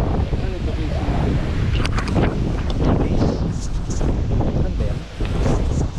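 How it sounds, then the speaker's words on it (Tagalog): Strong wind buffets and roars continuously, loud and close, with wave-like surges and rumbling gusts hitting the microphone, and voices break in briefly underneath. "Sobrang lakas ng hangin mga kalahi."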